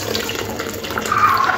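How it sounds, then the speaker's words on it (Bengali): Water runs and splashes steadily as it is poured into a pot of cooked red and mung lentil dal, a short, close pour that swells slightly toward the end. "এরপরে ডালের মধ্যে একটু জল দিয়ে দেব।"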